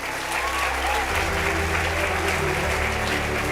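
A church congregation applauds at a service. The clapping is a continuous, even wash that holds steady from start to finish, with voices mixed in beneath it.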